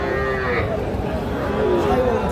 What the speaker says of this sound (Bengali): এটা হলো শাহিওয়াল বাছুর,